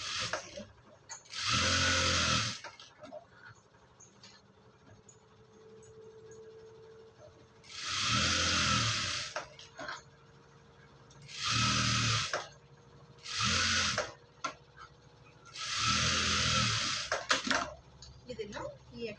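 Short, repeated bursts of a sewing machine stitching lining onto main cloth spread flat underneath, alternating with stretches of talk.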